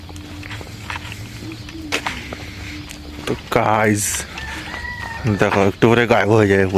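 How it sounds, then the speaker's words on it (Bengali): A village winter morning with a rooster crowing and birds calling around, set against quiet rustle and scattered footsteps; a person talks over the latter half. "প্রকৃতির যে সকালবেলা যে পাখির ডাক এবং কোলাহল"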